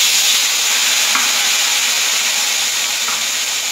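Chopped tomatoes dropped into hot oil with whole spices, bay leaf, dried red chili and cumin, giving a loud, dense, continuous sizzle heard up close.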